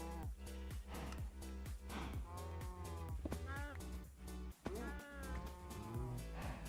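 Cows mooing as they are punched in a modded survival video game, the lowing calls repeating over a dense, busy game soundscape with thumps and layered effects.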